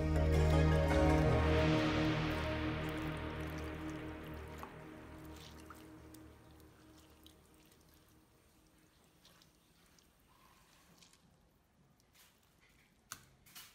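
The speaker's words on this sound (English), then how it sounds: "rinse off the salt from the vegetables and squeeze the water out" Wet squishing and dripping as water is wrung out of rinsed, salted vegetables, loud at first then fading into faint trickles and occasional drips.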